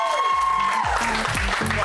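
A studio audience claps to welcome a comedy show host onto the stage, producing loud, dense applause throughout while a voice speaks over it.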